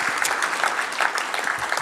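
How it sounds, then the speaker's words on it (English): A forum audience at a 2018 panel event applauds to welcome the panellists: a brief, steady round of clapping from a seated crowd, fairly loud and continuous with no talk over it. "Give them a round of applause."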